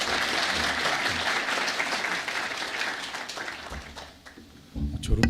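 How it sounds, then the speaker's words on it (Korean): A church congregation at a Sunday worship service gives a missionary steady, full applause that fades gradually, followed by a short burst of clapping and a voice at the very end. "우리 박수로 한번 환영했으면 좋겠습니다."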